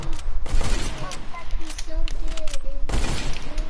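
Hand cannon shots in Fortnite crack out loudly, one heavy blast at the start and another near the end, with game noise and a voice talking in between.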